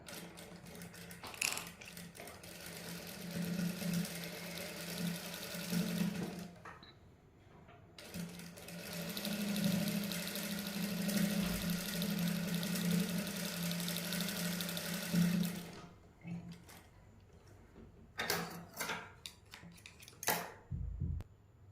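Domestic sewing machine stitching net lace onto a garment sleeve, running in steady buzzing bursts with a brief pause, then stopping for short handling clicks and fabric rustles near the end.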